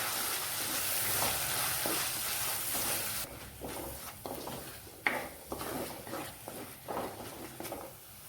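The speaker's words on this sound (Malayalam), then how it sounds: "ചെറിയ തീയിൽ നല്ലപോലെ ഇതൊന്ന് വഴറ്റിയെടുക്കാം." Chili paste sautéing over a low flame in a pan for a sardine curry with mango and ground coconut: a steady close sizzle broken by a series of stirring scrapes in the second half, with no voices.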